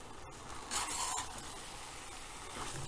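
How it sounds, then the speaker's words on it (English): Rice tipped into a pot of potatoes, peas and tomato for pulao makes a short, close rushing hiss lasting under half a second, followed by a quieter steady background, no speech. "In goes the rice, all of it."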